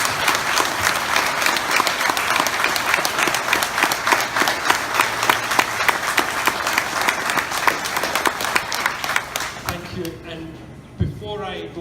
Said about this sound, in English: I would like us as a community, as people who have served and friends of those who served, to acknowledge just now in a round of applause.